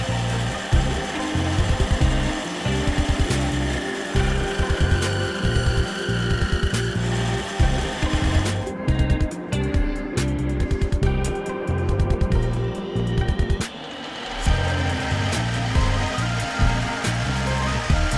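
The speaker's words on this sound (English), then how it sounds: "the tool post is set up to bevel the outside edges." A lathe bevels the outside edges of a ring held on a mandrel, giving a steady, loud machine whir with a rhythmic low chatter that runs the whole time and briefly thins out partway through.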